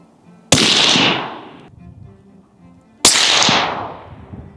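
Two loud, sharp reports from a suppressed large-calibre rifle, each a sudden blast with a long rumbling decay, a few seconds apart outdoors.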